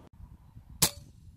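An FX Dreamline .22 air rifle fires a single shot at a 100-yard target outdoors, a sharp, crisp crack standing out once above a low, rumbling wind-like background.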